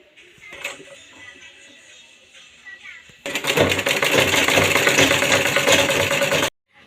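A sewing machine stitches the folded hem of a petticoat, running in a single loud, steady whirring burst of about three seconds after a stretch of quieter handling sounds and faint talk.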